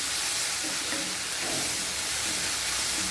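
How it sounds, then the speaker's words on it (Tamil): Onions sizzle and fry in a covered pan while dried anchovy thokku is being cooked, giving a steady, close hiss with soft crackles and nobody speaking. "நல்லா வெங்காயம் வதங்கணும்."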